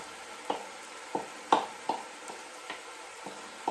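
Drained diced green chilies from two 7-ounce cans tipped into a tater tot casserole mixture and stirred, giving a string of soft wet plops and scrapes at an irregular, moderate pace, close and quiet, with no talking.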